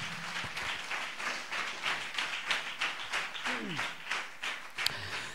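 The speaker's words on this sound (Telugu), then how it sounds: "చప్పట్లు కూడా దేవుని స్తుతిద్దాం" A church congregation at a Sunday service claps together in praise, a steady rhythmic beat of many hands repeating evenly for several seconds, with voices faintly underneath.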